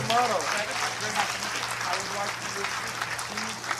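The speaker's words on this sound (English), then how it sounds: "Let's give a round of applause for Tickle here." Audience applause in a cinema after a screening, a moderate patter of clapping mixed with talking voices and a steady low hum underneath.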